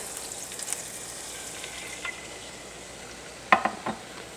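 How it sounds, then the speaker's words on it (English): Shrimp sizzling in a pan with creamy lemon pesto sauce ingredients, a soft steady frying hiss with a few faint clinks and a brief clatter near the end, no talk. "Now I'm going to add the milk."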